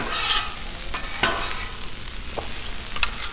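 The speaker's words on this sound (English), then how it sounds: "I'm going to get this turkey warming up too." Turkey and fried rice sizzle steadily on a Blackstone griddle, with a few sharper scrapes and clinks of a spatula stirring through the near, continuous hiss.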